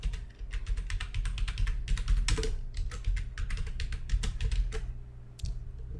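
Fingers type quickly on a computer keyboard, producing a dense run of crisp key clicks with a brief pause near the end.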